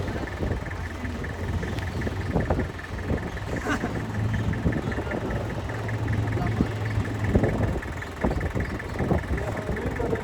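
A car engine idles steadily on a snowy mountain road in Swat, a low continuous rumble with faint background voices and traffic noise throughout.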